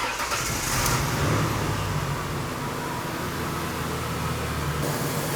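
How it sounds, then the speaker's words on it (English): A 1998-2011 Ford Ranger with a 4.0L V6 cranks briefly and catches, then settles into a steady, close, low idle rumble with no voices over it. "I'm going to turn on the engine, let the water pump circulate,"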